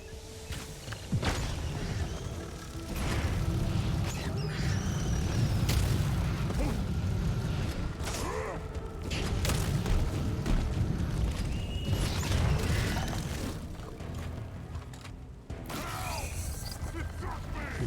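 Explosives detonating in the mining game Deep Rock Galactic, heard as sustained low booming rumbles with mechanical clanks and creaks, loud and continuous for most of the stretch.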